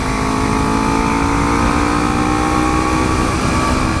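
A Kawasaki Ninja 300 motorcycle with Woodcraft clip-on bars runs under steady acceleration, its engine a continuous loud drone mixed with dense wind roar across the whole stretch, with no talk.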